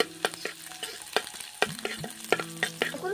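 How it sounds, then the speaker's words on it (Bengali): Onion, garlic and cumin seeds fry and are stirred in a pan, giving a steady close sizzle broken by repeated short scraping stirs of the spoon. "দিয়ে ভালো করে একটু ভেজে নেব।"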